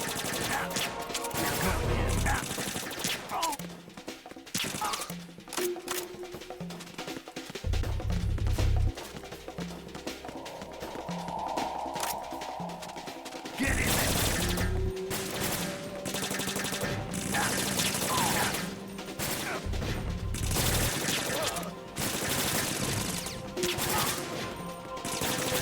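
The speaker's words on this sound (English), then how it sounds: "so Snake can get some shots off" Gunfire from the video game Metal Gear Solid 2 crackles through the whole stretch in dense volleys and bursts of rapid shots, with heavy low booms and crashes mixed in under a steady game soundscape.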